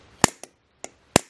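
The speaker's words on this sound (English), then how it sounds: "do a little bit of a elbow grease and put some hammer to it and see if I can gently tap" Hammer taps on a seized aluminum valve shaft of a gas cooktop: four sharp metallic strikes, two loud and two lighter, unevenly spaced and close up, with no talk.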